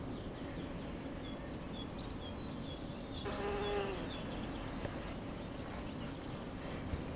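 Mason bees (Osmia) buzz steadily at low volume throughout, a soft continuous drone with faint shifts as insects move nearby.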